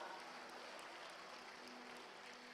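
A church congregation applauds, a dense, steady wash of clapping from a large crowd that stays even and fairly distant throughout, with no single voice standing out.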